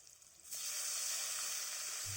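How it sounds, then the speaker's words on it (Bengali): Onion and tomato frying in hot oil for a Bengali fish jhal, a quiet start giving way at about half a second to a steady, dense sizzle that holds through the rest without talk. "পেঁয়াজের সাথে টমেটোটাকে খুব ভালো করে তেলের মধ্যে কষে নিতে হবে"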